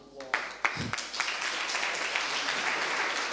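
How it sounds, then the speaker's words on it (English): Audience applause at a crypto meetup on ICO crowdfunding in Sofia, a dense wash of clapping that swells after a few sharp early claps and holds steady at moderate volume. "Give him a round of applause."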